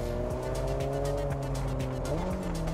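A car drifts in the racing video game Test Drive Solar Crown, with a continuous engine drone that rises and shifts in pitch over constant tire noise, loud and steady throughout.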